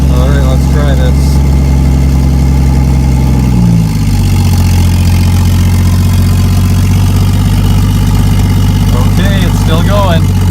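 A manual car engine that has just been started idles in a steady low rumble, loud and close, its pitch dropping slightly a few seconds in, with brief voices over it.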